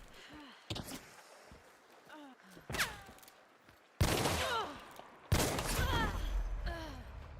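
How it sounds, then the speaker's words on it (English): Gunshots in a shooter video game come from several sides as sharp, separate cracks spread across the clip, with the last two landing loudest, while a player talks and exclaims between them. "I was getting shot from so many different angles there"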